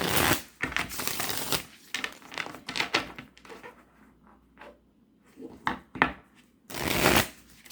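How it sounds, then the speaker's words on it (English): Cards being shuffled in several quick riffling bursts, crisp and close, separated by short pauses and softer handling noises. "Two more good shuffles."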